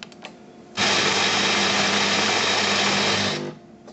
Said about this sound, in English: Very quick grinding.